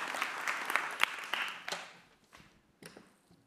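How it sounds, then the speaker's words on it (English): An audience at a talk event applauds a pair of invited musicians, a soft, fairly distant patter of clapping that fades over a few seconds into scattered taps and near silence. "Give them also a big applause."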